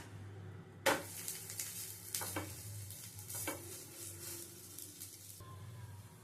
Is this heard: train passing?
no